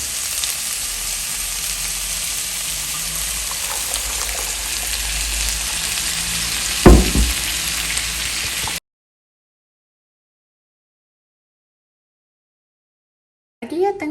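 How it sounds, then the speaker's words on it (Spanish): Nopales, cactus paddles, sizzle and crackle steadily in hot oil in a pan, with a brief clatter partway through, then the frying cuts to silence before a short burst of sound returns at the end. "Aquí le voy a empezar a agregar los nopalitos"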